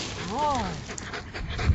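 A dog being trained in Cape Town to sniff out copper lets out a short, rising and falling whine, followed by soft shuffling and scattered handling noises nearby.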